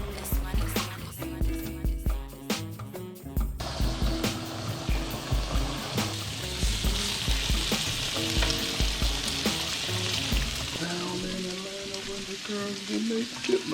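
Bacon sizzles and crackles steadily in a hot pan for mac and cheese, close and continuous, with occasional stirring and scraping sounds over the frying.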